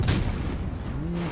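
Warship guns fire in the naval combat game World of Warships Legends, a deep booming blast at the start that rolls into a sustained low rumble, with faint engine and ambient game sounds beneath.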